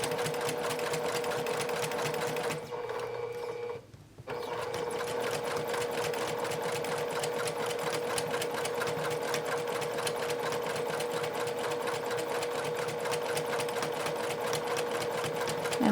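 A sewing machine stitches fabric for a round drawstring bag, running steadily and close by, with a brief pause around the third second before the even whirring resumes.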